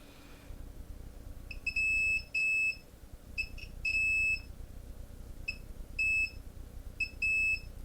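Circuit board repair test equipment gives sharp electronic beeps, some long and some short, in uneven bursts over a quiet background hum.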